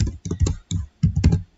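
Computer keyboard typing in short bursts, a handful of close, clicky key presses in quick clusters while line breaks are deleted in code, with no talking.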